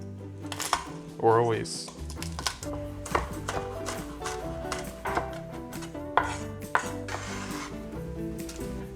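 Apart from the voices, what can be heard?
chopping garlic cloves with a knife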